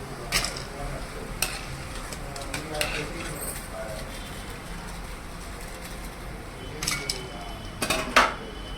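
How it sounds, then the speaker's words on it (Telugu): Bitter gourd pakodi frying in hot oil in a pan, a steady low hiss under sharp clinks of a metal spoon against the pan, with a few louder scrapes near the end. "చూడండి సౌండ్ ఎలా వస్తుందో. సో ఇలాగ అన్నీ ఫ్రై చేసుకోవాలి."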